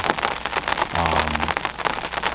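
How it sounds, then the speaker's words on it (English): Steady rain patters densely on surfaces in a rural valley near cornfields during a deer hunt, a continuous close hiss of drops with no voices. "it's raining"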